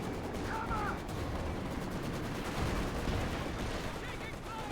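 Artillery fire and smoke deployment in a Company of Heroes 2 match, with tanks pushing through the centre: faint, steady rumble of distant gunfire and shelling, a continuous battlefield din.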